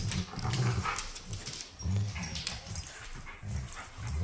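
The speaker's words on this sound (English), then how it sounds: "these are the puppies and they're playing tug of war" Puppies playing tug of war whimper, yip and give low growls in close, repeated bursts as they tussle.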